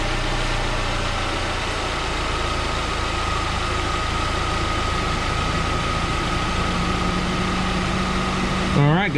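Engine of a 2019 Chevrolet Spark running at idle after an oil change, a steady close hum throughout with a brief knock at the end.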